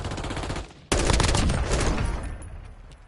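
Rapid bursts of gunfire in the video game Call of Duty, loud and close, with a sharp burst starting partway through and a dense rattle that slowly fades.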